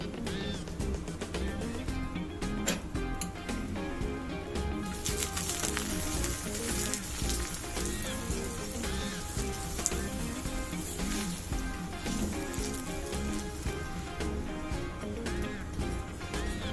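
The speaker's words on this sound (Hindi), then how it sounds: "अब मैं इस पे लगा रही हूँ घर का बना हुआ देसी घी।" Homemade desi ghee spread on a golden chicken keema paratha sizzles steadily in a hot pan, a continuous close crackle that turns brighter and denser partway through.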